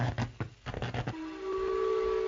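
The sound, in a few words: whistling wind from a spire in a video game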